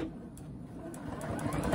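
A sewing machine back-stitches the lining of a reusable, washable shopping bag, giving a short steady motor whir with a rapid needle rhythm, close and alone.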